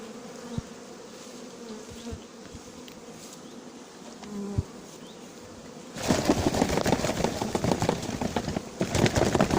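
A honeybee swarm hums steadily around a cardboard box outdoors, a low continuous drone that swells into a dense, louder buzzing partway through as the bees are disturbed.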